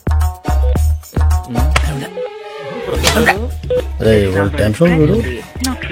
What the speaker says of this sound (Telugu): ఫోన్ చేస్తాను.